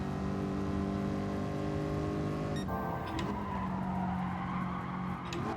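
In Gran Turismo Sport, a midship race car's engine howls at high revs, then drops sharply as it brakes hard and downshifts, with a brief tire scrub before the lower engine note settles in.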